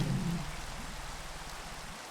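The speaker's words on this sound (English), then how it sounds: "This is the first time I've seen it rain on this server." Steady rain pattering down in the Minecraft SevTech: Ages modpack, a continuous even hiss with a low hum fading out early, no voices.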